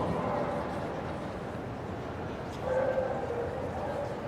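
A Sussex Spaniel in the gundog ring at Crufts 2006 gives short yips and barks, fairly close, over the constant hum of a large indoor show hall.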